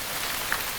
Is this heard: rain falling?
yes